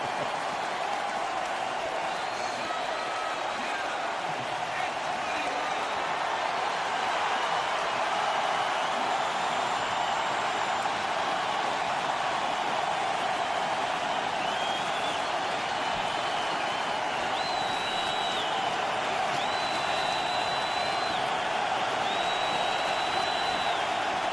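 Oakland Raiders stadium crowd roars as a continuous, loud wall of cheering and noise, steady throughout with no breaks.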